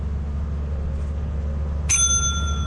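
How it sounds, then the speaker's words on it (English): Bell rung in the video game Lethal Company, a single clear, bright metallic strike that rings on with a sustained tone over a low, steady background hum. "ring the bell"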